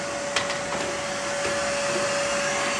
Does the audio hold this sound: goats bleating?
no